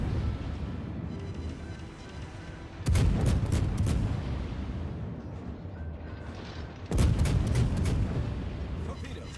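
Naval artillery salvos from a warship in World of Warships, two heavy booming volleys several seconds apart, each with a rumbling roll-off, over continuous engine and sea ambience.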